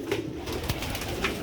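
A pigeon coos near a staircase among pigeon chicks, giving soft, low, throaty calls that repeat through the short clip at close range, with no talk.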